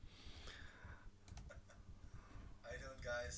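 A computer keyboard is tapped in a few quiet bursts of clicks, with a person speaking briefly nearby.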